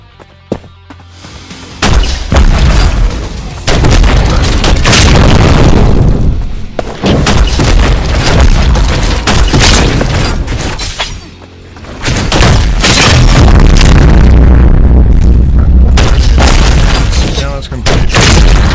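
Grenade launcher rounds in the roguelite shooter Holy Shoot explode in a dense, loud stream of booms and thuds, nearly continuous with a short lull midway, with a voice talking underneath.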